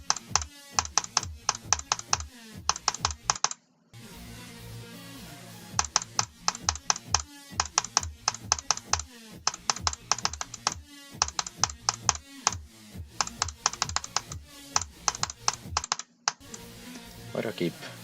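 Computer keyboard keys clatter in rapid, irregular bursts of typing and clicking during a game, close and dry, with brief pauses between runs and no talk.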